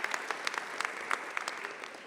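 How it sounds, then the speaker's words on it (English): Applause from an audience at a town hall meeting on anti-Semitism and violence, a steady patter of many clapping hands heard from a distance, fairly faint. "we've had many rounds of applause"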